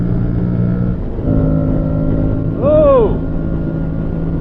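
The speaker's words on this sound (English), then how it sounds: "Nothing like flogging on someone else's motorcycle." An Aprilia Tuareg 660 motorcycle runs steadily under riding wind noise, its engine drone close and continuous, with a brief rising-then-falling whine near the middle and a short spoken exclamation.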